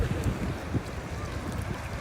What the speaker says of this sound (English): Waves are getting violent, says Alicia.